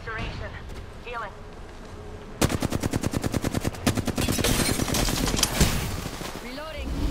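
A fast, loud burst of automatic gunfire in the Apex Legends battle royale game, dense evenly spaced shots continuing for several seconds, with a voice speaking and game chatter around it.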